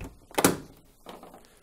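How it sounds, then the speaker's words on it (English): A Candy tumble dryer door with a newly fitted seal is shut with one firm thunk, followed a moment later by a softer second knock as it is handled again, close and otherwise quiet. "just close, then open the door a few times just to make sure the door closes"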